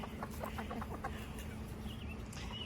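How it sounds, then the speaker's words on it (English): Backyard chickens cluck in a quick series of short, rhythmic calls during mating, close and moderately loud against light outdoor ambience. "distracted by chicken mating"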